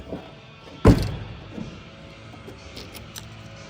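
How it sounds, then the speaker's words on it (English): The trunk lid of a 1988 Ford Mustang GT Fox body slams shut in one loud, close thud, followed by a faint rattle and quiet background. "Let's go ahead and close this trunk."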